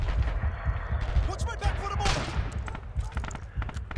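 Rapid bursts of gunfire and explosions fill a Red Orchestra 2 battle, a dense continuous barrage over rumbling low thuds, with a voice talking over parts of it.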